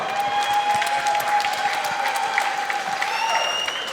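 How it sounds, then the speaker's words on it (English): A crowd at a Phoenix Fight Night MMA event applauds both fighters after the bout, loud continuous clapping and cheering, with a steady tone and a whistle-like whine running through it. "round of applause for both fighters this evening"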